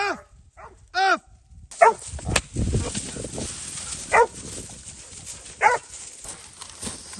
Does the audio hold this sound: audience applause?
no